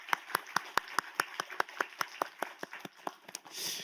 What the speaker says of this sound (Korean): 영광의 박수 올려드리도록 하겠습니다